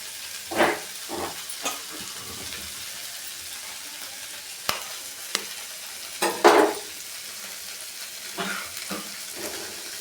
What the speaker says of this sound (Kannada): ಇವಾಗ ಮೊಟ್ಟೆ ಹಾಕೊಳ್ಳೋಣ